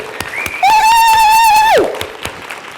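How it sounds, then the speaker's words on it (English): Scattered audience clapping at a birth-focused summit welcome session, while one voice lets out a long, high sustained cheering whoop that bends downward at the end, moderately loud and close. "So let's have a round of cheering and applause for each of us who made it here today."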